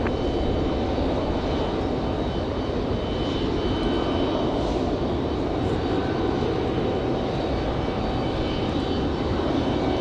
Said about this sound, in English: Next arrival, Republic Airways at 4668, coming in from LaGuardia